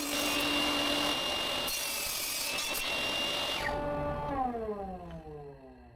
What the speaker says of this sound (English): Then I trim off the rough sawn edges so that the piece is 5 centimeters wide and cut the piece in half